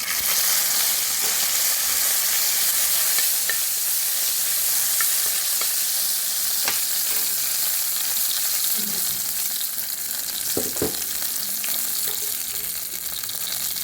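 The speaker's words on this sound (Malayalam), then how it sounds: "ഞാൻ അതേ തവയ്ക്കകത്ത് തന്നെയാണ് കടുക് വറുക്കുന്നത്." Mustard seeds, dried chillies and curry leaves fry in oil on a tava, a loud continuous sizzle with scattered pops and occasional stirring scrapes close by.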